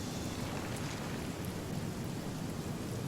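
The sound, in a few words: rain in the video game Divinity Original Sin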